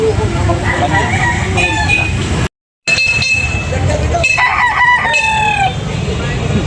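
Young roosters (stags) crowing at a backyard market area in Carbon, Cebu, several overlapping calls amid clucking and chatter, with people talking throughout.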